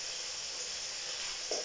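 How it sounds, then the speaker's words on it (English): Chicken sizzles in a pan for a mushroom and white wine sauce dish, a steady close frying hiss with no talk. "you can hear this now sizzling about"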